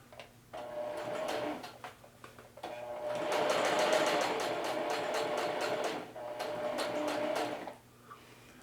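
A sewing machine runs a straight stitch along a pocket in two long bursts of steady motor hum and rapid needle clatter, separated by a short pause, loud and close with no talk.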